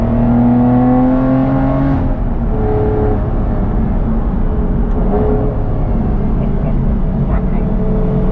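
An Aston Martin V12 engine revs hard through gear changes from inside the car, with a rising tone that drops sharply at a downshift before climbing again. A loud, continuous engine drone runs throughout.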